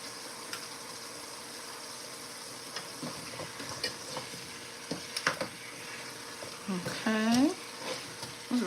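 Butter and almond milk go into a hot cooking pan, giving a soft sizzle and stirring scrapes under ongoing background chatter, with a brief louder clatter near the end.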